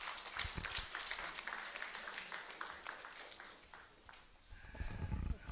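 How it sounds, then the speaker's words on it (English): Audience applause greets a guest arriving at a studio event on countering hate speech, a steady wash of clapping that swells loudly near the end, with some talk mixed in. "Please clap for Mr. Akuma as he comes to the studio."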